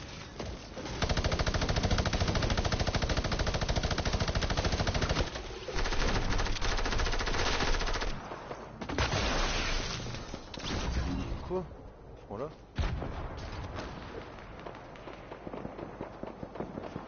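Pistol gunfire in a video game: dense, rapid popping shots run almost continuously at loud volume, broken by brief pauses and a few heavier bangs, with a voice occasionally talking underneath.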